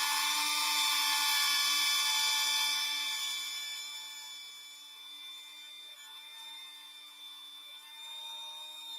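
A rotary tool whines steadily while polishing a small metal lock pin, a high sustained tone that stays loud at first, then eases slightly and holds level through the end, with no talking.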